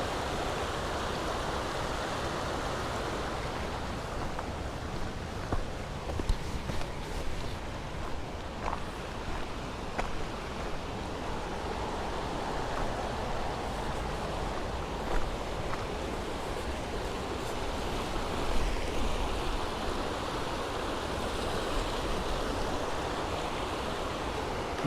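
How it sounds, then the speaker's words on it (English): A waterfall and flowing water on the way to Yellowstone National Park make a steady, broad rushing roar throughout, alone with no talking. "there's a waterfall right there and it's going over"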